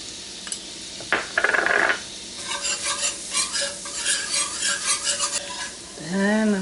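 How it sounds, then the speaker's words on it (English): Garlic sautés in a pan among browned pork tenderloin bits. A spatula clatters and scrapes rhythmically against the metal over a bright, constant sizzle, and a few pan knocks follow. "I'm going to throw in my garlic, get that sauteed."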